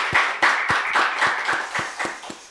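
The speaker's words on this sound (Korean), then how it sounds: "우리 수고하셨는데 우리 박수 한번 하도록 하겠습니다" A church congregation claps together in a loud, regular rhythm, with sharp, evenly spaced beats of unison clapping close by for a few seconds.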